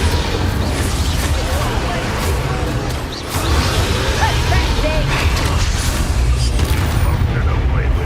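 A Confringo blast spell going off in the Hogwarts Legacy video game, a loud booming burst within a dense, continuous wash of combat noise and rumble.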